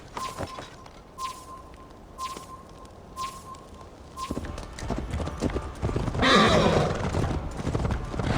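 Horse hooves gallop at a steady clip-clop in Assassin's Creed Valhalla, moving from a sparse rhythm into a louder, busier stretch with a whinny and brief voices mixed in.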